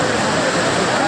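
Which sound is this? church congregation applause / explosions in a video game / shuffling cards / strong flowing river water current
strong flowing river water current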